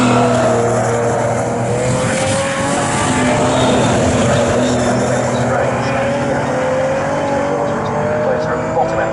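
Pre-1963 racing cars roar down the Bentley straight at Snetterton, a loud, sustained engine drone with shifting pitch as the leaders pass, under continuous commentary.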